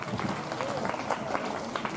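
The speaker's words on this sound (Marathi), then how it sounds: "त्यांच्यासाठी सुद्धा टाळी वाजवा" Audience at a school prize distribution ceremony clapping steadily, a dense wash of many hands applauding at moderate loudness, with some voices mixed in.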